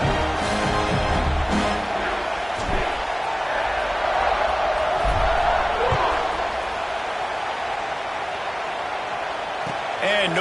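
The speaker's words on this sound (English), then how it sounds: "this crowd is buzzing after that last score" A football stadium crowd buzzes after a score, a dense, steady roar of many voices that fills the whole stretch, with a commentator talking over it.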